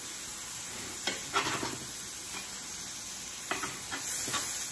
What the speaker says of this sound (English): Saute them for a second